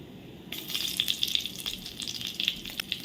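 Green chillies dropped into hot tempering oil for kadhi, with cumin, asafoetida and turmeric already in it, set off a sudden crackling sizzle that spits and pops continuously close by.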